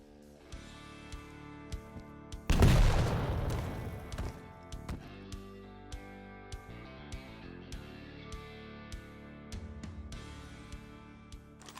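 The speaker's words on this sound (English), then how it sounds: "You need to time your shot in such a way that the rocket explodes the same time you land here." A rocket explodes with a loud, close burst during a rocket jump in Quake Champions, followed by lighter thuds and clacks of movement over steady game music.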